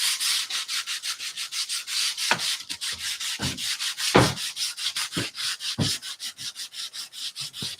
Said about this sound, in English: even though there's a built-in top coat in the paint, it doesn't gum up when you sand it